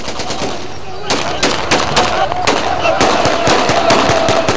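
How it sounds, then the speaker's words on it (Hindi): Celebratory aerial gunfire in Libya crackles in rapid, irregular bursts of loud sharp shots, some close and some more distant, layered over a noisy crowd background. "गोलियां चलाई जा रही हैं, हवाई फायरिंग हो रही है"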